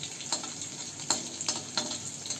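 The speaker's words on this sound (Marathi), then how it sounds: "त्यामध्ये थोडीशी मोहरी छान तडतडायला आली की त्यामध्ये थोडंसं जिरं फुललं की त्यामध्ये ठेचलेला लसूण टाकलाय मी." Mustard seeds, cumin and crushed garlic sizzle in hot oil for an ivy gourd vegetable dish, giving a steady close frying hiss broken by a few sharp crackling pops, with no talking.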